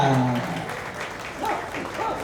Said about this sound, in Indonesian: mari kita beri tepuk tangan yang meriah untuk kelompok Nirantara